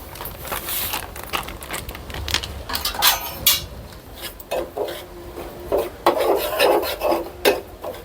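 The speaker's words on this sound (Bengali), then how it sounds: "সুজিগুলা ভালো করে ভাজা হয়ে গেছে, একদম মচমচে করে ভেজে নিয়েছি এগুলা" Semolina dry-roasting in a pan for laddu, heard as dry grainy scraping and rasping as it is stirred, in uneven bursts with short pauses, fairly close and moderately loud.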